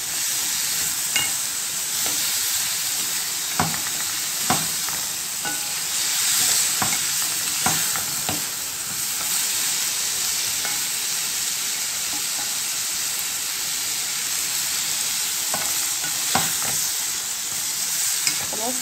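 Liver frying with onions in a pan, a steady bright sizzle and hiss throughout with occasional soft scrapes and clicks of stirring, close and continuous with no talking.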